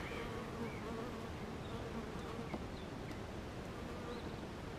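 A continuous, fairly quiet hum of honey bees buzzing around an opened hive while supers full of wax and capped honey are checked, with a few individual bees droning close by.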